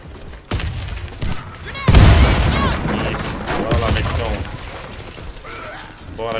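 A grenade blast on a staircase bursts out in the middle of Warface video game sounds, followed by rattling debris and mechanical noise, with voices talking over it.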